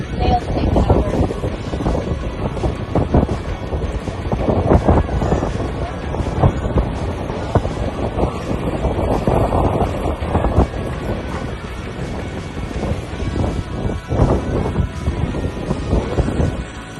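Wind blowing and buffeting a microphone aboard a foiling sailboat at sea off French Polynesia, a steady loud rushing roar with gusts throughout, no clear talking.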